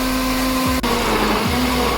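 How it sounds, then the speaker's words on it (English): Kitchen blender whirring loudly and steadily, blending apples, pineapple, lemon, mint and ice with a little water into juice; the motor pitch dips and recovers twice as contents shift, with no talk. "Then let the blender do the work."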